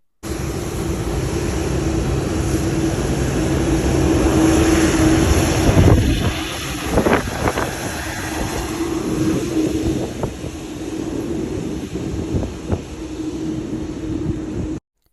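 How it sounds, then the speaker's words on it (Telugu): A cargo aircraft passes near an airport runway, heard outdoors as a loud, steady broadband roar with wind buffeting that swells and then eases, joined by a few brief sharper sounds in the second half. "ఇది వచ్చేసి కార్గో ఫ్లైట్ సో సౌండ్ చూసారా ఎట్లా వస్తుందో"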